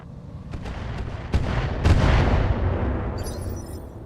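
Mech weapons firing in RogueTech: a quick run of sharp shots, then heavier booming blasts that roll out and fade. No voices.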